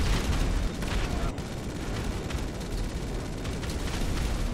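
Sticky bomb blasts in Grand Theft Auto 5, a dense rumbling roar of explosions and debris that fills the whole stretch loudly with no pauses; no speech.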